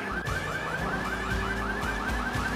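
Party car horn in the video game GTA 3, a looping, warbling alarm-like siren tune repeating rapidly and steadily over a low engine rumble, loud and continuous.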